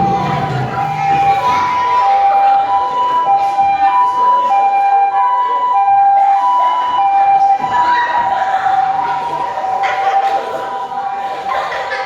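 An ambulance siren wails in a repeating two-tone pattern, loud and close, during a school drama performance, over a noisy crowd with children shouting.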